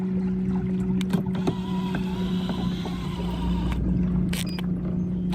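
An electric trolling motor on a small fishing boat swinging the bow around in nav mode, a steady whining hum with water lapping and a few knocks from the hull.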